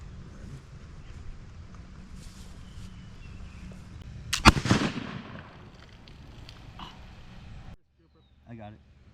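A single sharp flintlock rifle shot fired at a snapping turtle outdoors, loud and abrupt near the middle, over steady background hiss and low rumble, followed by a brief quiet stretch and faint movement.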